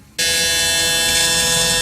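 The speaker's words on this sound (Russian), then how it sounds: "Но на этот случай есть триммер для длинных волос." A Braun electric shaver's long-hair trimmer switches on after a brief quiet moment and runs steadily with a loud, even electric buzz close up.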